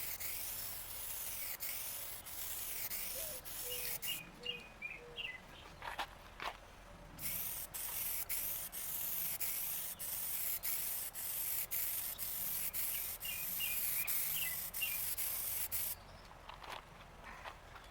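A spray gun hisses steadily while applying temporary paint to an old barn-find car body, in long continuous passes broken by a few short pauses, with faint rubbing and footsteps nearby.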